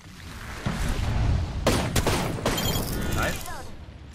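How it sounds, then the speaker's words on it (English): Bursts of rapid gunfire from another team in an Apex Legends match ring out over a dense, noisy game mix, with sharp volleys in the middle of the stretch and a player's voice faintly under the action. "another team shooting in the back"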